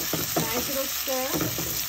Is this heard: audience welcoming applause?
no